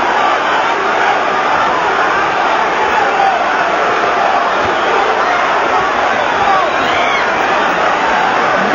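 A packed boxing arena crowd at Mike Tyson versus Frank Bruno, a dense continuous roar of shouting and cheering that holds loud and steady throughout.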